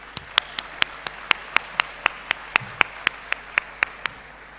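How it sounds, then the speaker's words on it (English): A single pair of hands claps slowly and evenly, about four crisp claps per second, against a quiet background. "Please give yourself a round of applause."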